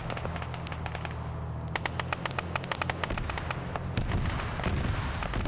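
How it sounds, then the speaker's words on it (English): A Mark 19 grenade launcher in a military video game fires a rapid, evenly spaced series of sharp bangs over a low rumbling background. "now you got the Mark 19 firing at the Pander"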